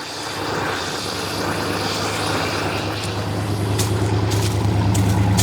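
Old General Lee car, run again after many years, its engine idling steadily from behind the car, a loud continuous rumbling drone that grows slightly fuller toward the end, with no talk.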